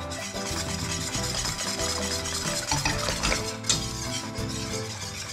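Warm cream, milk and gelatin stirred in a pan with the heat switched off, a steady scraping swirl of utensil against metal that runs close and continuous, with a few light clinks and no talking.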